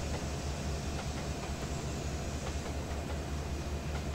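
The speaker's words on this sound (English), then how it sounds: "It's just nice to sit and watch the train go by sometimes." A train passing by on the Carrabassett Valley Railroad, heard as a continuous rumbling wash with faint rhythmic rail clicks, steady and moderately close, with no talk.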